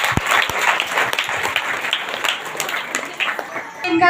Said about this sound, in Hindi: इससे जोरदार ताली